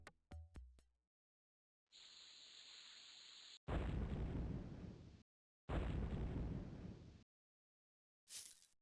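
Bomb blasts from the 1994 video game Lode Runner: The Legend Returns, a few quick pops at the start followed by three long, loud hissing explosion bursts separated by silences, then a short final burst.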